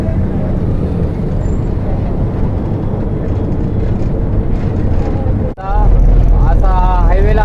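Dense highway traffic jam near Narmada with cars, motorcycles and buses, a steady loud rumble of idling and crawling engines close by, with someone talking over it toward the end.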